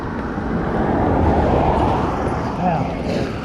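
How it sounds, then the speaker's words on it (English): A car approaching from behind on a narrow road, heard from a moving electric motorbike as a low rumbling roar mixed with wind buffeting that swells and fades over a few seconds. "I can hear a car coming behind"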